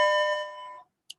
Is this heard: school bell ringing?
yes